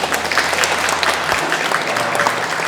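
A church congregation at Sunday worship applauds, a brief, dense burst of many hands clapping at steady loudness throughout.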